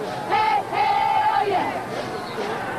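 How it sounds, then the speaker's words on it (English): A stadium crowd of several thousand gathered for a Battle of the Network Stars event roars and cheers loudly in sustained waves, with raised voices rising and falling. "A crowd of several thousand already on hand for the first event"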